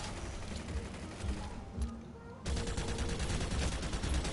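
Rapid gunfire from a Pulsar C carbine in Planetside 2, dense continuous bursts of shots with a brief lull in the middle before firing resumes, loud and close with mechanical clatter.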